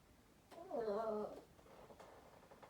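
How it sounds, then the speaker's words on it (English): A hungry cat lets out a close, drawn-out meow lasting about a second, followed by a fainter, softer vocal murmur, against a quiet indoor background. "You making funny noises, Harvey?"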